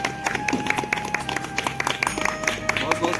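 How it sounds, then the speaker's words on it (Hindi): Audience clapping at a Chhattisgarh Bengali Society foundation day gathering, a steady patter of applause from a crowd with a voice talking over it. "ताली बजते रहना चाहिए।"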